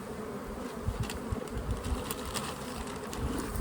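Honey bees bringing in pollen hum steadily at the hive entrance, a dense, continuous buzz with individual bees zipping past close by, no voices.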